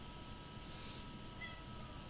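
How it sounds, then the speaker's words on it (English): A house cat meows faintly a couple of times in the background indoors during a martial arts form practice session, with soft steady room noise around it. "Ignore the cat."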